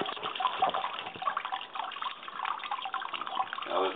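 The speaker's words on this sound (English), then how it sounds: "now we're just slowly raising it up to strain all the liquid away from the wort in our boil pot" Wort draining and trickling from grains through a drilled bucket lifted out of a boil pot during home brewing, a steady close watery splash with light dribbles throughout.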